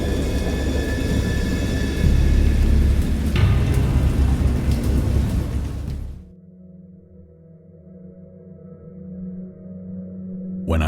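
Heavy rain pours with deep rolling thunder in the video game Dagon for several seconds, then cuts abruptly to a quiet low hum before a faint swell at the end.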